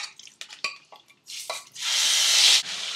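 Minced lamb marinated in ginger garlic paste hits a pan of hot ghee, giving a loud, steady sizzle after a few close clinks and scrapes of utensils.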